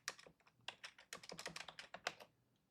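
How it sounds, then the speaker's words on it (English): Fast typing on a computer keyboard, close and fairly quiet, a steady run of crisp keystrokes with one short pause, alone without speech. "I'm going to type a comment here"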